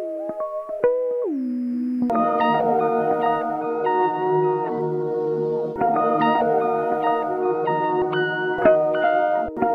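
An accent from a time-stretched sample chop in an FL Studio beat: a bending, sliding tone gives way to layered sustained pitched notes with watery stretch artifacts and echo, loud and alone.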